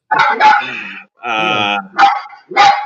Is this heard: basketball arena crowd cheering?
no